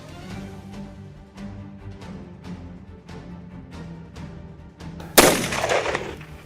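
Hunting rifle gunshots during a hunt: a steady series of sharp distant-sounding cracks at roughly half-second intervals, then a much louder, closer blast with a long rumbling tail near the end.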